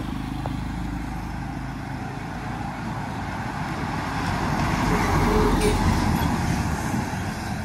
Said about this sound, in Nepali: गाडी पनि आएको छ